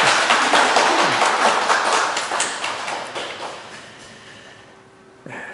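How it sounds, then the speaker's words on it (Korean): A church congregation applauds, a loud burst of dense clapping that gradually fades away over several seconds, ending in near silence with a faint bump at the close. "감사의 박수, 축하의 박수."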